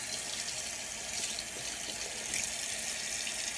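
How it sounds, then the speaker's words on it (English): Tap water runs steadily to rinse foundation makeup off, a continuous hissing splash close by with no voices over it. "Put it underneath some water."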